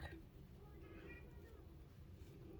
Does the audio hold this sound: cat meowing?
yes